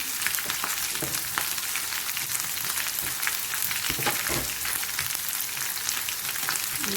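Onions frying in a large pot of slow-cooked lamb paya shorba, a dense continuous sizzle and crackle that stays loud and even throughout, with a few soft stirring knocks and no voices.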